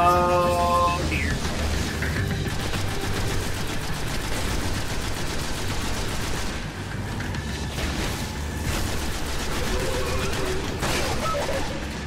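Sustained gunfire in the Destiny video game, loud rapid shots and bursts running almost nonstop with booming impacts, a dense continuous barrage.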